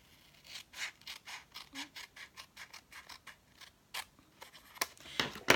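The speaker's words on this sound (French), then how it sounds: "je vais couper un tout petit peu ici" Scissors snip through a greeting card in a quick series of about fifteen short, close, crisp cuts at a steady rhythm, then a few louder rustles and clicks, with no speech.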